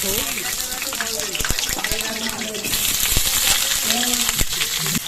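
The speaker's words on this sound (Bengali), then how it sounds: "এবার আলুগুলোকে দিয়ে দিলাম আলুটা ভাজা" Potatoes frying in hot oil for a chicken-feet dish give a steady broadband sizzle throughout, with scattered clinks and someone talking over it.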